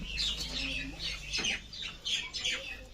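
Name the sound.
domestic pigeons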